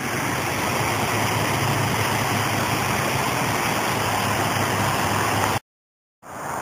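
A waterfall on Los Gatos Creek pours in a steady, dense rush of broadband water noise, constant and fairly close, cutting out abruptly near the end with no voices.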